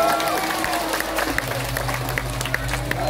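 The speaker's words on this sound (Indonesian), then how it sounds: "Tepuk tangan lalu." Applause from the audience at a Balinese Drama Gong stage performance, a brisk patter of clapping over a low steady hum, fairly close and continuous for a few seconds.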